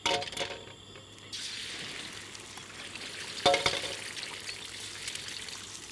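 Two small eggs frying in oil in a pan of oil-coated rice, a steady soft sizzle running throughout with a few brief clinks and scrapes partway through, no talking.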